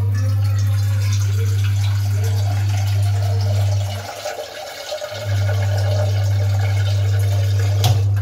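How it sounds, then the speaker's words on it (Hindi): Water filling a vessel for tea in a home kitchen, a steady loud rushing stream that breaks off briefly midway and then resumes. "पानी ले लेते हैं पहले।"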